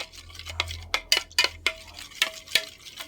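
Tofu sisig with calamansi and ground pepper being mixed in a bowl, with sharp intermittent utensil clinks and scrapes in an irregular rhythm over a faint low hum, close and moderately loud.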